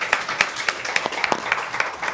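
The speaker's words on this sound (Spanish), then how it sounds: "Yo creo que primero un aplauso," Audience applause at a talk: sharp, distinct claps repeat at a fairly even pace for around two seconds, close and moderately loud, with no voices over them.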